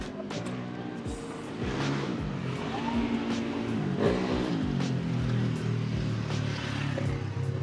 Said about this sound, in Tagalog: Ang ingay ng mga motor!